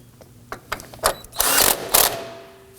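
A ratchet snugs down the battery bracket bolt on a 2018-2024 Toyota Camry, giving quick close pawl clicks that build into a louder burst of rapid ratcheting.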